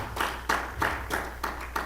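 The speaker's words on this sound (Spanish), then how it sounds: "De veras, gracias por los que aplauden sin que lo digan." Rhythmic congregational clapping during a church service, six strong even beats about a third of a second apart, close and loud with nothing else over them.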